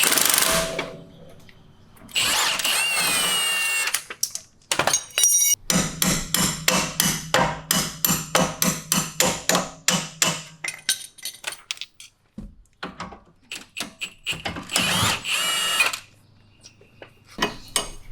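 Removing the lower fork bolt on an Audi C7 suspension with 18 and 19 mm tools: a long run of sharp, rapid metallic clicks and clanks, like a ratchet or impact gun, between bursts of louder mechanical whirring, close up with no talking.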